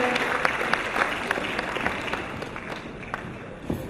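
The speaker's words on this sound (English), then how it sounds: "a big round of applause" A crowd at a community fundraising dinner in Crookston applauds steadily, dense clapping filling the room at moderate distance and holding throughout.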